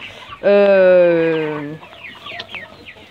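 A loud, drawn-out squawk from a flock of about 25 broiler chickens on a farm, with a strong harmonic tone lasting about a second, followed by softer clucks and chirps nearby.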